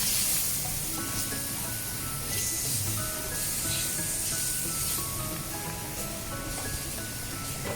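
Sofrito frying in a pan as the base for a Spanish paella, a steady close sizzle and hiss with no pauses and no voices.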